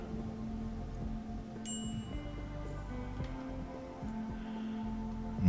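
Rain falls steadily in the video game Rimworld under a low, droning hum and game music tones, soft and continuous, with no talk.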